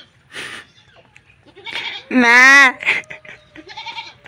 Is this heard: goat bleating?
yes